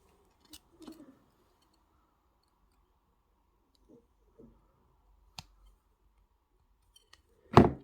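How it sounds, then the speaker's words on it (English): Jewellery wire for a wire-wrap ring being snipped, heard as a few sharp, isolated clicks and small metallic handling taps over near silence, ending in one louder close snap. "I'll cut that off so it finishes at the back."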